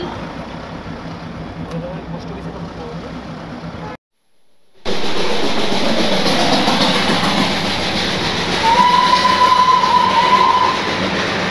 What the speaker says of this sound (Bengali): পৃথিবীর উচ্চতম রেলওয়ে স্টেশনে আমরা এখন ঘুম